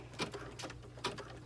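An embroidery sewing machine stitches the outline of an in-the-hoop snap tab project, giving soft rhythmic bursts of mechanical stitching over a steady low hum.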